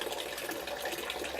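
Water steadily emptying from a bucket through a hole in its bottom during a lecture demonstration, a continuous soft gushing trickle that stays even and close for the whole moment, with no talking.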